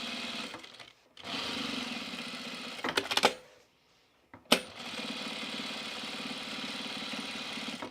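A sewing machine runs in steady bursts while stitching overalls fabric, with a brief stop near one second, a short stuttering restart near three seconds, then a silent gap before a long continuous run to the end.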